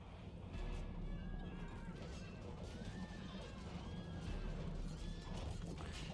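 Horses whinny and neigh amid a dense, noisy din of battle in Rome: Total War, with hoofbeats and clashing impacts rumbling underneath throughout.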